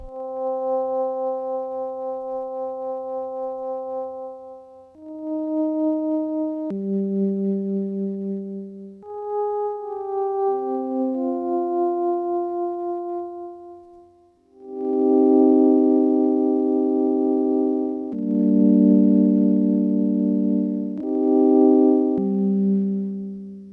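A Kasser Blaster FM synthesizer with a YMF262 chip plays a series of sustained, pure, hornlike sine tones that change pitch every couple of seconds, later growing brighter and buzzier as a modulator shifts the timbre.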